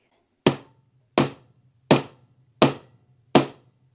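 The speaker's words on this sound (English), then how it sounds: "use your hammer and hit it" Five sharp hammer blows strike a metal hardware piece on a Longchamp pouch being modded into a crossbody bag, evenly spaced about once every 0.7 seconds, each a crisp close impact with a short ringing decay.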